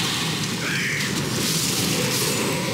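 An enemy blows up in Dark Souls 3, a rumbling, low burst that swells into a sustained roar of crackling debris and fire, loud and close, with no voices over it.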